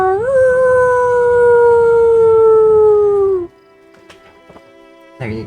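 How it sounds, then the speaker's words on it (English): A pack of dogs howls in The Witcher video game, one long loud sustained howl with rising harmonics lasting over three seconds, then a quieter stretch with faint distant yips before another howl starts. "There's some dogs over here, we can just ignore them."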